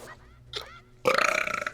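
A man lets out a loud, rough, sputtering burp up close during a casual gaming session. A couple of brief vocal noises come just before it.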